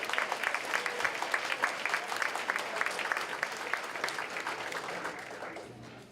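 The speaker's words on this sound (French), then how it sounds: "on se donne une bonne main d'applaudissement" A crowd claps steadily at a volunteer recognition gala, many hands in a sustained, even round of applause that tapers off toward the end.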